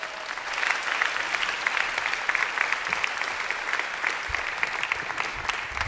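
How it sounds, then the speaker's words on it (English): Warm, lively applause from a conference audience greeting a speaker in Vilnius, dense clapping at a strong steady level throughout with a few louder claps near the end. "please put your hands together and give an incredible warm round of applause for"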